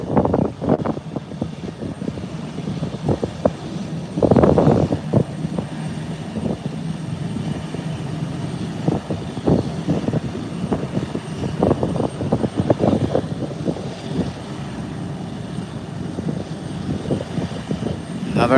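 An airplane touching down on landing, a continuous engine drone with a louder swell partway through, then a rumbling, crackly roll-out that carries on to the end.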